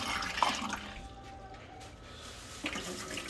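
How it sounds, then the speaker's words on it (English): Water poured off from a cooking pot of chalego beef cut into a sink, splashing loudly at first then thinning to a softer trickle before a final brief splash. "We pour off some of the water for it to boil faster,"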